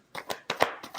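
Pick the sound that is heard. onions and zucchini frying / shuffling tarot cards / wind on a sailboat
shuffling tarot cards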